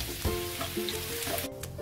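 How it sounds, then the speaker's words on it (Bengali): Crushed garlic frying in oil gives a close, steady sizzle, broken by a few soft stirring scrapes and light clinks of a utensil against the pan. "হালকা লাল করে ভেজে নেব"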